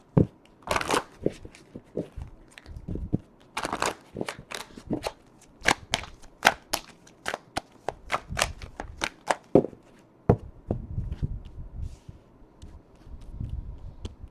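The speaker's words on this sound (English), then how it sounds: "We're going to use the Power of Love cards by James Van Praagh" Oracle deck of Power of Love cards being shuffled by hand, a rapid series of crisp riffling slaps and flutters in uneven bursts, close and fairly loud, with brief pauses between runs.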